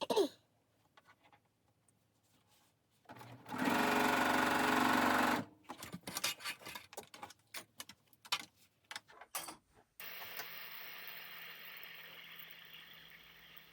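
A sewing machine stitches binding onto a table runner in a dense, loud burst, followed by quieter irregular clicks and handling sounds, then a steady hum at the end.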